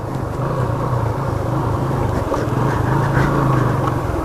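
A motorbike in first gear gives a steady, fairly close engine drone with a low hum that holds even throughout, and no one speaks over it.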